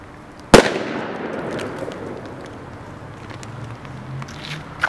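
A paint grenade with a 1.4-gram firecracker charge bursts in one sharp, loud bang close by, and a short decaying rumble and faint rustle follow.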